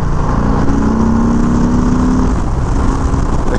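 A 2021 Harley-Davidson Sport Glide motorcycle pulls under acceleration, a steady loud engine drone with a faint rising tone, heard from the rider's position amid wind noise.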